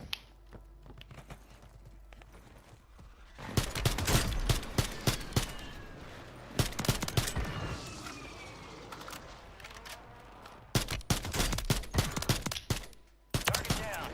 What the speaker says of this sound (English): That's my airstrike coming in.